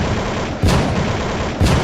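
Two loud gunshot blasts about a second apart, each a sharp boom over a constant roar of background noise.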